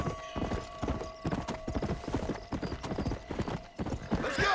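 Horse hooves clip-clopping in the Red Dead Redemption game, a brisk, steady series of close hoof beats at a trot, with a faint whinny near the end.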